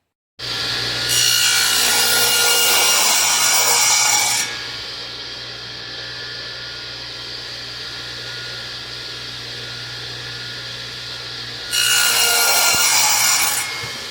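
A saw cuts through a wooden board with rapid rasping strokes, pauses under a steady motor hum, then resumes for another short burst.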